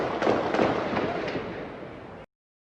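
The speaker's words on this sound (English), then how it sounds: "there definitely some gunfire going on" Gunfire in a street during unrest, heard as a dense run of sharp cracks and pops over about two seconds, loud and close, with a brief shouted voice mixed in before it cuts off.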